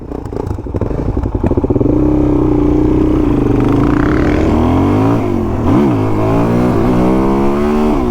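A motorcycle engine revs hard at high RPM during a race between Suzuki DRZ400 and KTM Duke 390 bikes, a loud steady roar with rising and falling pitch sweeps, close and alone.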